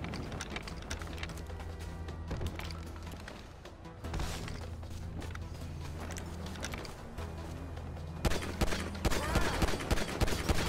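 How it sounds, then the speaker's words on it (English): Dense, continuous gunfire during first-person shooting in GTA 5 plays under game music and effects, growing sharper and more rapid toward the end. "Lenny, you know I could shoot pretty well in first person."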